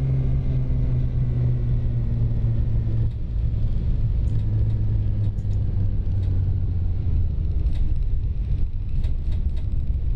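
A steady low motor hum and rumble with a droning tone, punctuated by faint clicks and rattles, from a Munich Type M electric tram rolling along in the LOTUS Simulator game.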